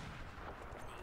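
Gunfire in Battlefield 4, a dense continuous barrage of shots and booming fire that stays loud and steady throughout without any pause or talk.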